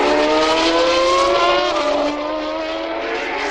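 A 1990 Formula 1 car with a Judd engine screams past at high revs, loud and close, its pitch sliding down as it passes and continuing as a steady high whine.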